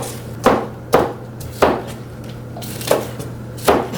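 A knife chops a green onion on a cutting board with five sharp, evenly spaced thuds over a low steady hum. The sound is close and nobody speaks.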